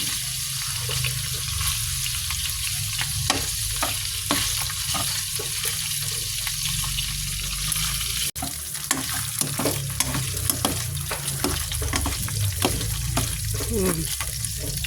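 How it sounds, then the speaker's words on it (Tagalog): Garlic sizzles steadily in a little cooking oil for a Filipino sautéed patola and misua dish, a constant frying hiss with occasional stirring clicks and faint background sounds. "lagyan natin ng konting mantika Hintayin natin yung bawang."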